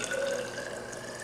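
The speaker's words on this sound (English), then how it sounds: "pour this warm water into this side" Warm water pours steadily into one side of a convection apparatus, a close, continuous splashing fill with a faint rising tone.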